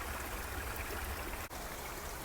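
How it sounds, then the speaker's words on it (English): Water from a backyard koi pond waterfall pours and churns into a small stream, a steady close rushing trickle with a brief dip partway through. "All that water pouring in and mixing, oxygenating, purifying the water, coursing through this little stream."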